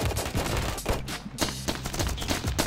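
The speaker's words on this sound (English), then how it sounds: "I'll just hold down the trigger, so you can start shooting" TK7 Charlie gun in the shooter game Afterpulse firing on full auto, a rapid unbroken stream of sharp, loud shots that runs through the whole burst with only brief stutters.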